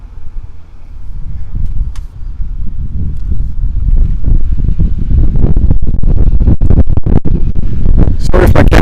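Gusty wind buffets an outdoor microphone on the course at the Carleton Golf and Yacht Club during a senior men's tournament, a steady low roar with rushing bursts that build louder toward the end.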